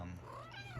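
A house cat meows close by, a short tonal cry with rising and falling pitch heard alone over a quiet room.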